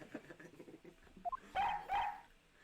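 Short yips and barks from a police dog in the Ace Attorney Investigations game, two louder bursts near the end after a few small chirps, over quiet background game sound.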